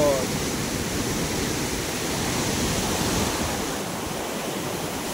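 A fast, dangerous river current at Gajoldoba rushes as a dense, steady roar close by, a broadband wash of water that barely changes throughout.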